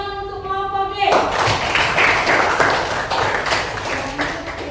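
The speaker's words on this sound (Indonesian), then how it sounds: "Oke, tepuk tangan untuk kelompok D." A classroom of students claps for group D after a presentation, a dense burst of hand claps starting suddenly and continuing steadily near and loud for several seconds, with some talk mixed in.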